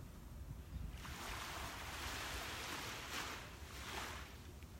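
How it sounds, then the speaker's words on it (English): Ocean surf washes onto a beach in steady swelling rushes, with broad hissing wash peaking around the middle and near the end, set against a low wind rumble and no voices. "the sound of the waves"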